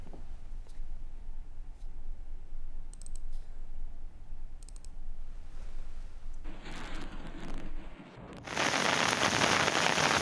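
Heavy rain from a strong western weather system over Balochistan gives a continuous, even hiss with a few faint clicks, then swells abruptly into a much louder downpour near the end.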